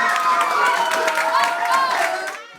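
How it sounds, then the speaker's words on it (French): Students clapping and cheering together in a classroom at Lycée Moderne d'Anyama, a loud, bright burst of applause mixed with shouts that fades out at the end. "Applaudissements."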